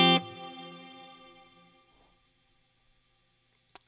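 A single guitar chord rings through a Strymon Cloudburst ambient reverb pedal with the mix turned down, decaying smoothly over about two seconds into near silence, followed by a brief faint click.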